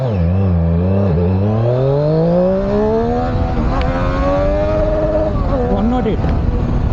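A 2020 Triumph Street Triple R 765 accelerates hard in first gear, its loud close engine note climbing steadily in pitch after a brief dip, then dropping back as the throttle eases.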